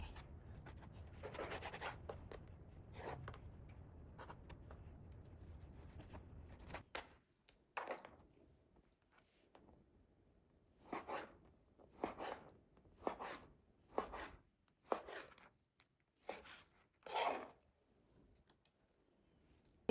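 Knife cutting the fat off raw chicken and dicing the meat into cubes, with several short, quiet, separate chopping taps against a board following a stretch of soft steady background noise.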